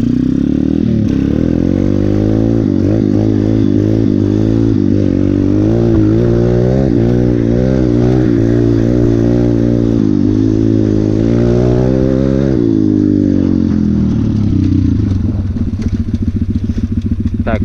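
A pit bike engine revs up loudly and steadily as the rider pulls away, its pitch climbing and falling in repeated throttle surges before settling into a lower, rougher idle near the end.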